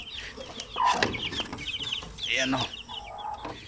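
Hens and their chicks clucking close by on a backyard poultry farm, a busy run of short clucks and peeps while a person briefly speaks.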